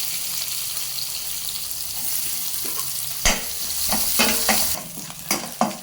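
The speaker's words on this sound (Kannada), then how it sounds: "1 ಈರುಳ್ಳಿಯನ್ನು ಹೆಚ್ಕೊಂಡಿರೋದನ್ನು ಹಾಕ್ಕೊಳ್ತಾ ಇದ್ದೀನಿ" Chopped onion added to hot oil with cumin, mustard seeds and curry leaves for a moth bean curry, frying with a steady sizzle, broken by several sharp stirring scrapes and spoon knocks near the end.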